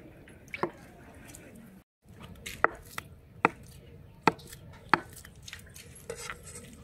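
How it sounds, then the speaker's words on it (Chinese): Knife cutting tofu into long strips on a board, five or six sharp, spaced chops with a soft squishy edge, close and clear, with light kitchen noise between strokes. "先切成长条"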